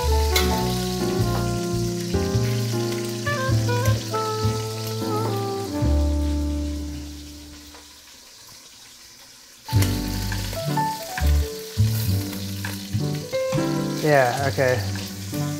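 Beef browning in a pan over high heat for beef bourguignon crackles and sizzles steadily, dipping briefly before the frying surges back loud and close, with a short spoken remark and music playing alongside.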